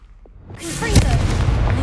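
A Confringo fire blast spell cast in Hogwarts Legacy erupts as a sudden loud whoosh and burst, swelling into a sustained roaring crackle that carries on for over a second, with no talking over it.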